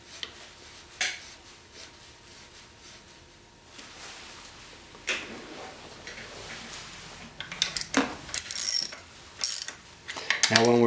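Ratchet wrench clicking as bolts are tightened on a G2 Ergonomics Mongo handguard mount and triple clamp, with irregular bursts of close mechanical ratcheting and metal clinks growing busier toward the end, no talk.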